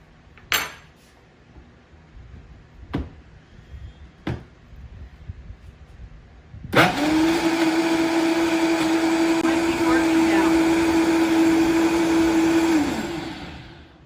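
A few sharp clicks and knocks come first, then a blender whirs loudly and steadily for about six seconds while mixing an ice cream drink, winding down at the end.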